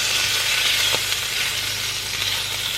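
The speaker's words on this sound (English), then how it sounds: "bacon doesn't take long to cook" Bacon and sausages frying in a pan, a steady close sizzle and crackle with a few faint clicks, continuous throughout.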